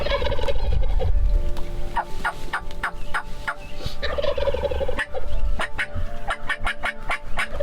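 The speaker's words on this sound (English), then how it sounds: "the other one was gobbling his head off every time Dad hit the call" A wild turkey tom gobbles loudly and repeatedly in an open field near a fence, each burst answering a hunter's calls in a quick, rattling series of sharp gobbles.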